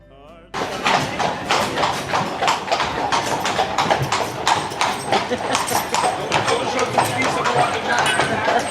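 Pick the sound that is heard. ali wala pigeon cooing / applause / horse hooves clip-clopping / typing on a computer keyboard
horse hooves clip-clopping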